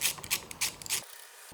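Ratchet and socket working loose the mirrors on a 2024 Harley-Davidson Road Glide, a run of quick close clicking and mechanical ratcheting strokes for about a second, then abrupt quiet.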